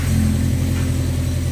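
2009 Volkswagen Fox idling just after being started with a switchblade key, producing a steady low, mid-pitched engine rumble that runs evenly throughout and stays close and moderately loud, with no voices.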